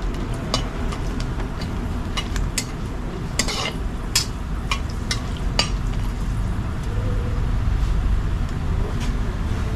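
Dried chillies fry in hot oil for a bhindi curry, giving a steady close sizzle and crackle with scattered sharp pops and stirring scrapes throughout, and no talk is heard.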